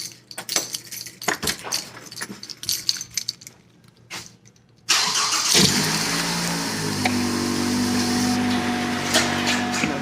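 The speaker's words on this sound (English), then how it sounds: "Okay, so let's start the car." Keys jangle and rattle inside a car before the engine cranks and catches about halfway through, settling into a steady close idle that runs loud to the end, inside a garage.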